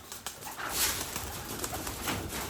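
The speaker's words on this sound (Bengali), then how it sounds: "অতিথি কবুতরগুলো বাড়ির কবুতর সাথে মিশতে পায় না সহজে" Soft pigeon coos repeat close by over a low background murmur, a few gentle calls across a couple of seconds.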